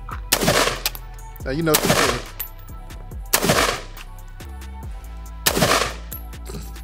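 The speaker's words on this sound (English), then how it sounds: "It gotta be the world's worst mag dump." A budget AR pistol fires in a few widely spaced sharp shots rather than a rapid magazine dump, loud and close, with a short spoken remark between them.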